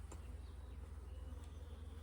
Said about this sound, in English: See, the bees they get mad, right?